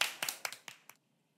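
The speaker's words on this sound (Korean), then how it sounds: "박수 한번." A handful of quick, crisp hand claps in a Korean TV talk-show studio, about five in a short burst, faint and close, then falling silent.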